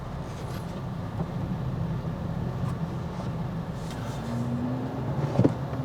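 A 2022 Subaru WRX with a manual transmission drives along, heard from inside as a steady low engine and road drone, with a brief tonal rise near the end and no talking.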